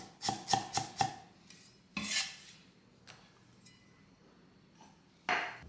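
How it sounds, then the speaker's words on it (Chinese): A knife crushes and slices a small piece of ginger on a board. Four quick sharp chopping knocks come first, then a heavier whack and a few scattered cuts and taps, close and crisp with quiet gaps and no talk. "拍散后切片"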